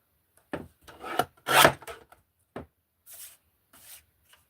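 Card stock for a handmade A2 card being trimmed down in size, heard as a burst of close, dry scraping and rasping cuts with short slides and taps, then softer rubbing, with no voices.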